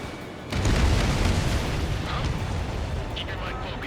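A big, close explosion of an enemy transport in the combat flight game Ace Combat 7 hits suddenly and then rolls on as a long, heavy rumble that fades slowly, with a few light pops and crackles later.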